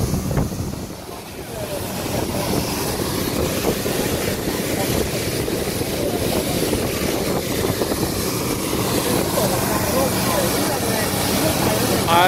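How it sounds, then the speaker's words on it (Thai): Small Thai longtail boat (rua hua thong) at sea, its engine droning as a steady, continuous rumble with an even hum throughout, loud and close. "เป็นเรือแล้วครับเรือหัวโทงเล็ก"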